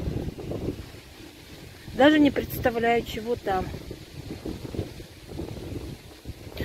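Gusty wind rumbles and buffets the microphone while someone talks briefly over it.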